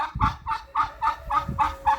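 Geese and turkeys grazing outdoors, with about seven repeated loud honking squawks at a steady rhythm close by, each cry bright and nasal.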